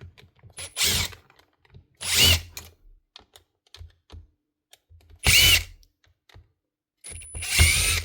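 A 2017 Makita drill with a suspected burnt-out motor and its casing open from loose screws runs in four short, loud bursts, separated by quieter gaps with faint mechanical clicks.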